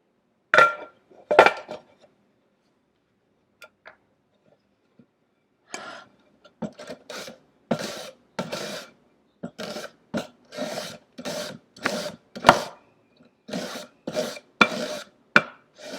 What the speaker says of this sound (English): This is done on the mandolin.